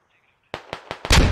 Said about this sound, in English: Oh, grenade, I'm dead!